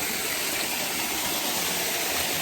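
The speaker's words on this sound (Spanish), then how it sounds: "Hay una catarata pequeña." Steady rushing roar of a small waterfall on the Cerezuelo river near Cazorla, a continuous broadband wash of falling water heard close and loud, with no voices over it.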